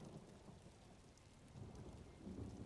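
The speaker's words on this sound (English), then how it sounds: "I could do without this damnable rain. It's been storming since we arrived, and it shows no sign of letting up." Steady rain with rumbling thunder from a storm in the video game Elder Scrolls Online, a continuous dense wash that swells slightly toward the end, with no talk over it.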